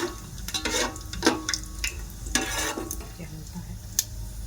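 Cardamom pods, bay leaf and shahjeera crackle in hot oil for prawn biryani, a constant close sizzle punctuated by spoon scrapes and light clinks against the pot.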